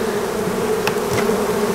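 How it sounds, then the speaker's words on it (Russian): Honeybees from two late wild swarms being merged into one hive, a dense continuous close-up buzz with a few brief louder passes of individual bees. "Пчела пугливая, рамки все бросила и разбежалась по углам."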